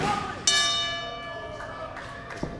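A wrestling match starting bell rings once sharply at a women's division bout, its metallic tone ringing out and decaying under a commentator's voice, with a faint second strike near the end.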